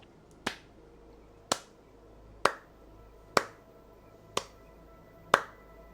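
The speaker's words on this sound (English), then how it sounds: "suddenly you hear a slow clap" A slow clap during a tabletop role-playing session, six crisp, isolated claps spaced about a second apart, close and clear against a quiet background.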